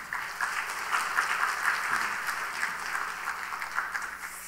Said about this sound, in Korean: 목사님 나오실 때 박수로 환영하시겠습니다